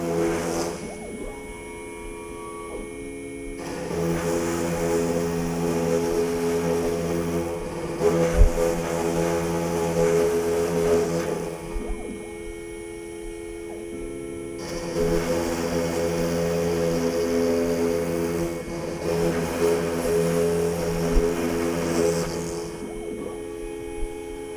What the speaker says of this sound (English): increase the spindle speed a little bit so it cuts faster